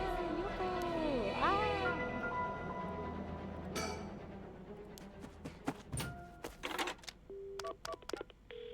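In the video game Paranormasight, a phone is dialed to call an ambulance. Soft tonal game sounds give way to a run of short keypad beeps and clicks tapped out in quick, irregular succession.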